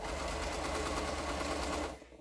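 A sewing machine runs at a steady fast clatter while stitching quilt pieces with neutral thread, close and continuous for about two seconds before stopping abruptly.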